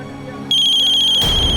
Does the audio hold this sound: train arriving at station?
no